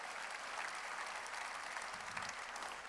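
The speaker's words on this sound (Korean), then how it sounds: "보고 들은 사람만 박수 쳐야기야" Congregation applauding during a church worship service, a steady dense wash of clapping from many hands that fills the room without pause, with no voices standing out.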